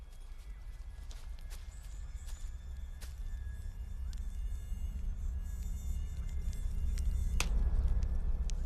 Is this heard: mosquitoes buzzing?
yes